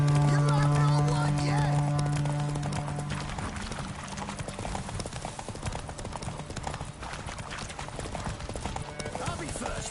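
Horse hooves clip-clopping at a steady gait while riding in the video game The Witcher 3, a continuous rhythmic patter under game music and ambience, with a low tone fading early on.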